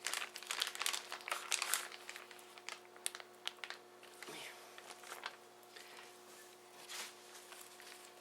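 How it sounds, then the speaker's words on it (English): Parchment paper crinkles and rustles as it is handled on a kitchen counter while bacon is prepared for canning, a close, busy crackling that thins out toward the end. "and this is parchment paper."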